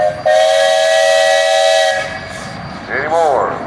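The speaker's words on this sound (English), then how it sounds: "All right, Mr. Fry, you got a whistle." A steam traction engine's whistle at a steam and threshers parade, one long loud steady blast lasting nearly two seconds, then fading into crowd noise and a second brief warbling toot.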